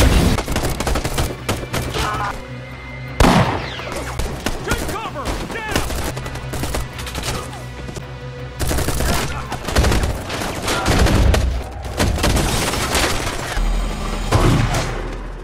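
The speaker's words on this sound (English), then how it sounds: "triggering a brutal and intense gunfire exchange with the migrants" Bursts of rapid gunfire crackle and boom in intense, overlapping volleys in a film, with loud sharp shots punctuating a dense, chaotic firefight.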